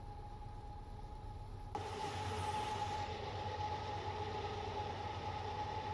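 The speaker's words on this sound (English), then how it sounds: "Man, that is a loud engine." A locomotive engine in Train Simulator 2021, heard from the cab on a CP freight run, drones loud and steady with a tonal hum, jumping sharply louder after about two seconds and then holding.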